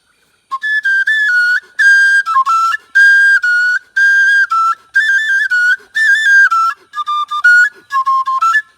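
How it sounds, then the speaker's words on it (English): An Igbo oja wooden flute plays a phrase of short, bright, whistling notes in bursts with brief gaps, sliding between pitches like speech, close and clear with no talking. "it's a speaking flute"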